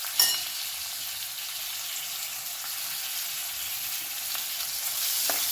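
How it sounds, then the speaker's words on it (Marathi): Chopped onion sizzling in a pan with garlic over low heat, a steady close frying hiss with a few faint stirring scrapes. "कांदा देखील आता आपल्याला परतून घ्यायचा आहे."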